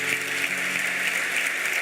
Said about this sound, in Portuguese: Você pode aplaudir cada uma delas.